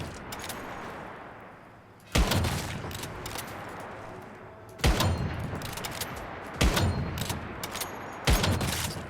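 Gunfire in the online survival shooter Once Human, with four sharp, loud bursts of shots spaced a couple of seconds apart, each followed by a decaying rumble and echo, alone without talk.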